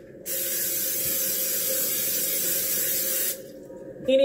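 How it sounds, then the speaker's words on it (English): Cooking spray hisses steadily onto baking pans for about three seconds, close and fairly loud, then stops abruptly, followed by a short clatter. "we're going to spray those up really good so they don't stick"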